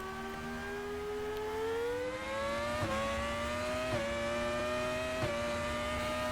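Race car engine in the RaceRoom racing game, whining steadily as it climbs in pitch, with several quick upshifts that each cut and drop the tone, loud and alone.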